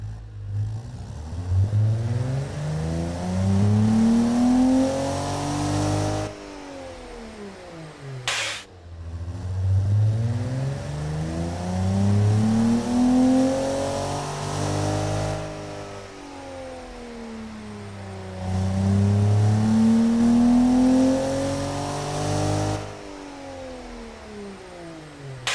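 A game-simulated car engine built in the Automation tycoon game as a Nissan 300ZX competitor, a big high-torque American-style motor, revs up and down in long sweeping cycles, loud and steady for the whole stretch with no talking.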